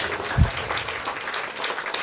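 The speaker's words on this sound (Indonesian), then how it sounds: "tepuk tangan buat Tuhan Yesus" A church congregation clapping together, a short burst of dense applause heard fairly close, with one low thump near the start.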